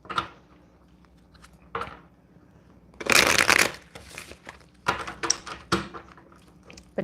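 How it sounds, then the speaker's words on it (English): Tarot cards are shuffled close up in several separate bursts of riffling and flicking, with a louder run in the middle and quiet gaps between, no talk over it. "I'm going to shuffle these ones a little bit more before I start pulling them."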